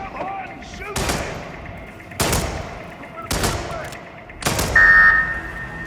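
Gunfire in the Hitman video game, four sharp broadband shots spaced about a second apart, each with a short decaying tail, over steady background ambience.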